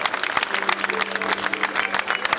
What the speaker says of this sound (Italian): però voi applaudite sempre